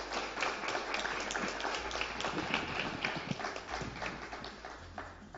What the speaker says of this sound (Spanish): Para ella un aplauso de verdad grande.